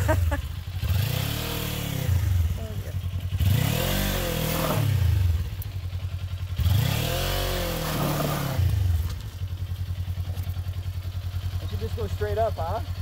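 A street motorcycle climbs a steep hill at a motocross park, its engine revving in repeated rising surges that swell and fade, loud and close, with brief lulls between pulls and some voices faintly underneath.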